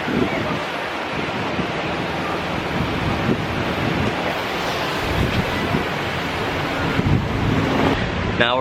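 Ocean surf at a beach, a constant loud wash of waves mixed with heavy wind buffeting against the microphone, with faint voices now and then.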